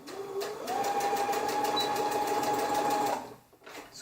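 A sewing machine stitches shirt fabric toward a curve, a close rapid buzz with a steady whine that speeds up after a moment, runs evenly for a few seconds, then stops, leaving brief faint handling noise.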